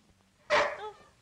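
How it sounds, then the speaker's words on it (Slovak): A single short dog bark rings out clearly in a quiet room, a sharp close yelp with a brief tail. "To nič, to je môj pes."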